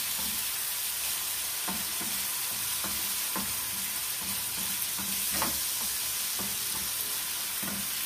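Tomatoes sizzling steadily in a frying pan for an omelette, a constant crackling fry with soft scrapes from stirring now and then.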